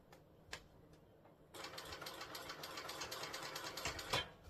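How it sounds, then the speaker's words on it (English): A sewing machine runs a row of stitching across fabric binding, starting after a few faint ticks and then whirring in a steady, rapid rhythm, fairly quiet and alone. "Do another row of stitching."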